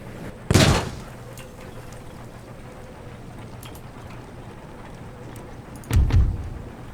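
Two separate heavy artillery blasts in Empire: Total War, a close booming shot near the start and another near the end, with quiet battlefield ambience in between.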